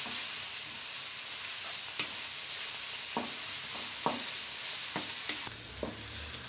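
Chickpeas frying in a pan with shredded cabbage, a steady close sizzle and hiss broken by several sharp scrapes and clacks of a spoon stirring, no voices.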